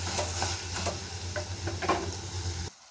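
Onions, garlic and chopped tomato sautéing in a pan for chicken biryani, a steady sizzle with occasional stirring scrapes, close and continuous until it cuts off near the end.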